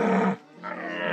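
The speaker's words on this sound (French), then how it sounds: "le cerf commence son brame pour intimider les autres et devenir le cerf dominant" A stag deer belling in rutting season, a loud, rough, drawn-out roar that breaks off briefly before a second bellow starts, heard alone without talk.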